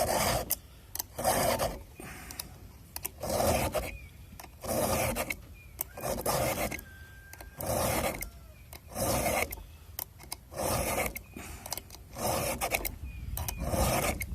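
Rhythmic rasping strokes of a round file on chainsaw teeth, repeated in steady bursts with short pauses between, close up.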